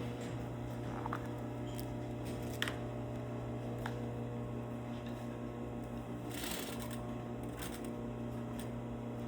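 A sewing machine hums steadily and continuously while stitching a lapped zipper, with a few faint clicks and rustles of fabric handling over the drone.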